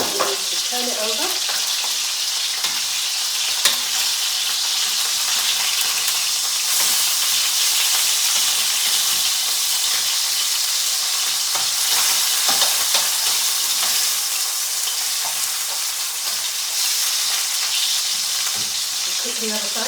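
Chicken pieces frying in a pan, a steady loud sizzle with bursts of spitting and hiss, no talking, continuous throughout.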